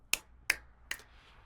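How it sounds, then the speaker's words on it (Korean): Three sharp hand claps, evenly spaced and close, each a crisp isolated snap in an otherwise quiet room. "박수 3번 시작!"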